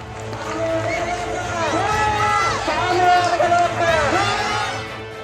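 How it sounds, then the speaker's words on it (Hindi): Protesters push to force their way into the Sri Lankan prime minister's office: a loud, surging crowd of shouting and cheering voices, with sirens wailing in the background. "भीड़ लगातार अंदर घुसने की कोशिश कर रही थी।"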